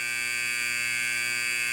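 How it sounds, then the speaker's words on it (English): Alarm in a Roblox pressurized water reactor game, a continuous harsh electronic buzzing tone with strong steady harmonics, loud and unbroken for the whole moment with no talking. "Oh, there's an alarm."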